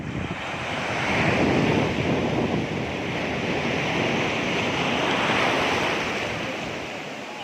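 Sea waves wash continuously onto Chivla Beach near Malvan, a loud, broad roar of surf mixed with gusty wind buffeting the microphone, with no voices.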